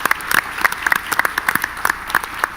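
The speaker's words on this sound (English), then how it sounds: "let's give him a round of applause" Applause from an audience at a 2016 NAED national meeting, a steady patter of many hands clapping, moderately close and filling the short moment without talk.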